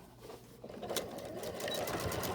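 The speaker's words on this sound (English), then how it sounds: "top stitch really close to this seam to just hold down the seam allowance" A sewing machine runs steadily, top stitching close to a seam on a fabric face mask to hold down the seam allowance, with a continuous whirring hum that grows slightly louder toward the end, with no talking.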